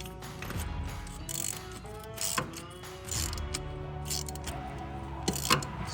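Ratchet with socket tightening a bolt on the 1.8L engine of a 2009 Toyota Corolla, a close series of quick clicking strokes in short repeated bursts with pauses between.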